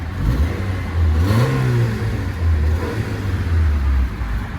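A 1997 Honda Accord LX engine with a newly installed cold air intake turns over and revs, its low rumble rising and falling steadily for several seconds, close and fairly loud with no talking.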